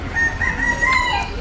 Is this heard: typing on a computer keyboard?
no